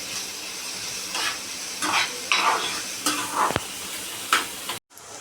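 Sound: onion frying in a pan for Marathi aloo bhaji

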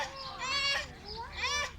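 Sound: chickens clucking

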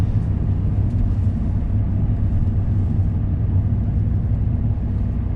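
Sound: Hyundai i20 car driving

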